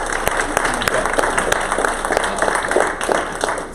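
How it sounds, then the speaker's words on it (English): An audience at a pediatric impact tour event breaks into dense, sustained applause, steady and fairly loud throughout. "we got to give all of those folks who put their money and their time behind this a big old round of applause"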